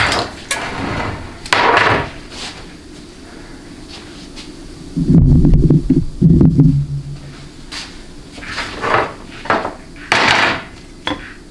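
Metal parts of a 4L60E automatic transmission being struck during teardown, loud close hammer whacks landing in short bursts with ringing thuds between quieter pauses.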